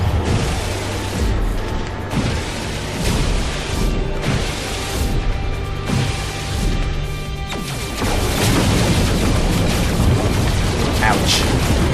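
Photon cannon fire during a space dogfight in No Man's Sky, loud repeated blasts and crashes rolling over a dense, constant roar of combat noise, with a voice briefly underneath.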